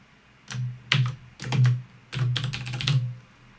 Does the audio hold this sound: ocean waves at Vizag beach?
no